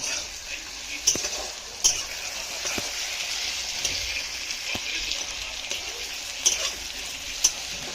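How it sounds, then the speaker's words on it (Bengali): Onions and tomato fry quietly in a pan, a soft continuous sizzle broken by a few sharp clinks of a spoon against the pan. "পেঁয়াজগুলো একটু বাদামি বাদামি করে ভেজে নিচ্ছি।"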